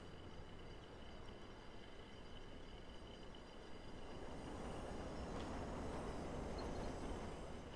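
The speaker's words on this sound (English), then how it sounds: "I hope just none of these trains will hit me." Trains rumble past in the Watch Dogs online hacking game near an underground station, a steady loud rolling roar with faint wheel squeal that swells slightly toward the end, with no voices.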